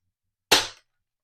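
A Captain Slug YEHW blaster fires once, a single sharp cap-gun-like crack that decays quickly into silence.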